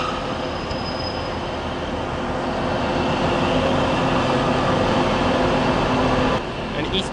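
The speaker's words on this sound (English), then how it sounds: "An East Midlands train service towards Liverpool South Parkway is leaving." An East Midlands train service, a 158 Express Sprinter bound for Liverpool South Parkway, pulls out of a Manchester station with a steady rumble, wheel noise and some squeal, while a voice talks over it.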